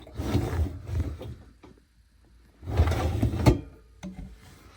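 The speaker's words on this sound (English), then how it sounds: "I just open the door, I pull out the drawer" A sliding storage drawer is pulled out, giving two bursts of rumbling, scraping slide noise separated by a quiet gap, close and fairly loud.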